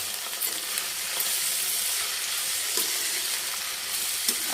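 Okra, turmeric and dried red chilies fry in a pan with a loud, continuous close-up sizzle and crackle, broken by occasional faint stirring scrapes.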